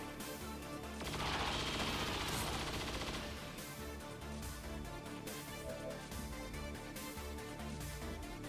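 Burst of rapid gunfire from a chain shot in the turn-based tactics game XCOM 2, loud and dense at first, then settling into ongoing battle noise and music with no talking.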